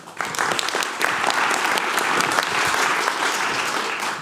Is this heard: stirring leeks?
no